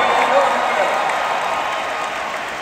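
A concert audience at an orchestra show in New York applauds a 102-year-old saxophonist, a dense, steady wash of clapping filling the hall, with a voice faintly over it.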